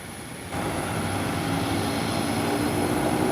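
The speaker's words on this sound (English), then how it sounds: "And it's now taking off." An Embraer EMB 120 Brasilia turboprop airliner taking off, its engine noise stepping up abruptly to a loud, dense, sustained roar with a steady high whine on top, and no voices over it.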